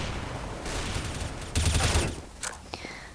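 Gunfire in the CS:GO video game crackles in rapid bursts, a busy fusillade of sharp shots rising to a louder cluster mid-way, then a few isolated pops, with quiet talk underneath.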